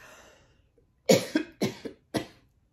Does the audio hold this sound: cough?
yes